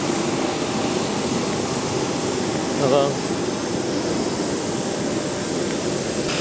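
Aircraft engines drone steadily across a boarding area as a passenger walks out toward the plane, a broad continuous roar with a high whine on top, while a brief greeting is spoken partway through.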